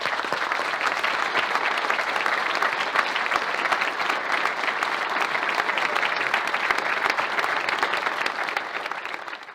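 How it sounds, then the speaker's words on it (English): Steady, crowded applause from an audience at a graduation ceremony in Santa Barbara County, a dense continuous patter of many hands clapping at moderate distance throughout, easing slightly at the end. "Please join me in a big Santa Barbara County round of applause for our graduates"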